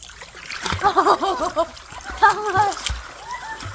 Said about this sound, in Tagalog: Ang sarap magbabad sa tubig.